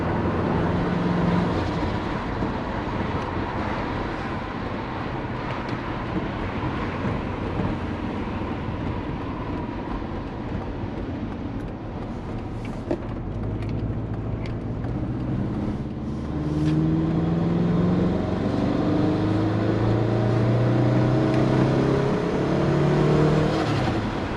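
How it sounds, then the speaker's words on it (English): Steady road traffic noise heard from inside a Subaru Forester, a dense broadband engine and tire rumble with rising engine tones toward the end, continuous and fairly loud with no talk. "Ongoing traffic, alright."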